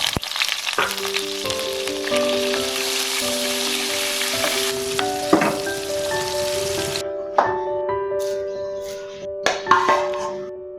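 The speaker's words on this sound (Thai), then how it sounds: "นำกุ้งแห้งไปทอดครับ" Oil sizzles and crackles steadily as dried shrimp fry, the hiss later thinning out, with occasional clinks and stirring sounds from a utensil.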